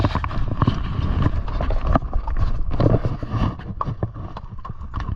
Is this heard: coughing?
no